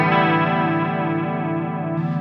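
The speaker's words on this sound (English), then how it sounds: "So let's do a chorus." A smart guitar with a chorus effect switched on rings out in a sustained, shimmering strummed chord that wavers gently in pitch, loud and close with no talking.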